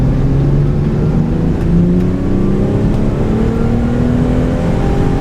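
A Land Rover Freelander engine is driven hard in an Italian tune-up, a loud, continuous roar whose pitch climbs gradually as it builds revs, close and unbroken with no talking.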